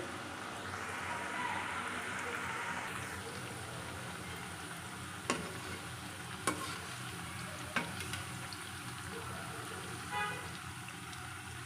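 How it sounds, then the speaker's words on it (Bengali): Nakshi pitha, a decorated Bengali rice cake, fries in hot oil over low heat, making a soft, even sizzle with a few faint clinks of a utensil against the pan. "আমি এবার এতে পিঠাটা দিয়ে দিব। অল্প আঁচে ভেজে নেব"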